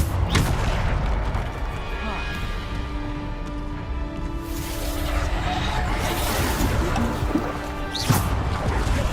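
Bombarda explosion spells in Hogwarts Legacy go off as heavy booms and crashes amid magical combat effects, with a sharp blast near the start and another late, while a voice calls out spell names.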